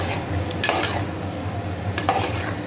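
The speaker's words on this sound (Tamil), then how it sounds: "இந்த கிரேவிலேயே போட்டு நல்லா வதக்கணும் அப்போ தான் அந்த உப்பு மசாலா எல்லாமே அந்த சிக்கன் பீஸு மட்டன் பீஸோட சேரும்" Chicken and mutton pieces being stirred and sautéed in masala gravy for biryani: a spoon scrapes the pot in two brief bursts over a low, steady sizzle, close up and without talk.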